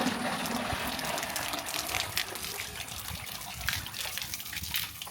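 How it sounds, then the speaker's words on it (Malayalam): Water gushing steadily out through a hole in a bucket during a waterproofing sealant test, a continuous close splashing and pouring rush with small surges, no talking. "വെള്ളം നല്ല രീതിയിൽ പോയിക്കൊണ്ടിരിക്കണല്ലേ, നല്ല ഫോഴ്സ് ഉണ്ട്."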